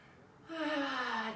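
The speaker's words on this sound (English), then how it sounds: "Deep inhale." A slow, deep breath drawn in during a yoga flow, starting halfway through and swelling into a breathy, slightly voiced inhale that lasts under a second, close and quiet.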